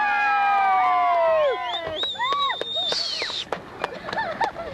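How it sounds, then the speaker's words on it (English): Wedding guests whoop and cheer with rising and falling voiced calls, lively and fairly close, overlapping in a loose burst of celebration. "Everybody start cheering here."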